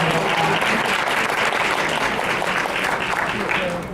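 An audience claps steadily and loudly throughout, a dense sustained round of applause with no pauses.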